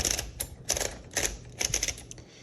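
A 1946 Smith Corona Silent manual typewriter clacks and rattles as paper is loaded, several short bursts of mechanical clatter from the platen and carriage, close and fairly loud with quiet pauses between.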